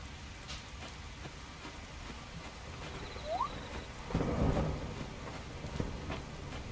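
Steady rain hisses throughout a video game thunderstorm, with a deeper rumble of thunder swelling around the fourth second before fading back under the downpour; no one speaks.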